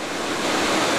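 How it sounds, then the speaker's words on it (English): Fast-falling water pours in a dense, continuous roar, loud and close with no pauses and no voices. "It is falling pretty fast, the water"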